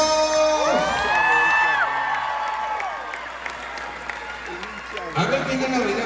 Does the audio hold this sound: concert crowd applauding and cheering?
yes